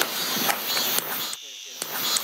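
Cicadas drone loudly outdoors in a dense, hissing buzz that swells and pulses, dropping away briefly midway where a low voice murmurs before the chorus surges back.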